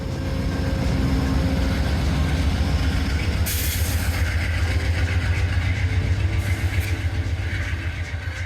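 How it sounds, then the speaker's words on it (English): An Amtrak Maple Leaf passenger train rolls through near West Harbour station on the Lakeshore West Line, a loud, steady rumble of wheels and railcars with a burst of squealing wheels midway, no voices. "seeing the Amtrak Maple Leaf roll through"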